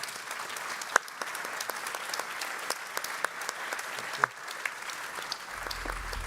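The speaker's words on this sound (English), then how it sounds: "A round of applause for our panel." Conference audience applauding a panel at an awards event in Europe, sustained dense clapping from a large crowd with a few sharper claps standing out near the microphone.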